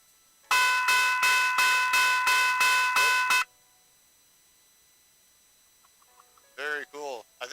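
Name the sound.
old railroad conductor's bell ringing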